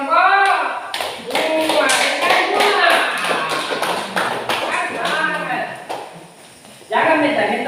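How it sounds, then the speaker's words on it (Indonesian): A classroom gives group 2 a round of applause: steady, crowded clapping with children's voices and chatter mixed through it from start to finish. "ini dia berikan aplaus kepada kelompok"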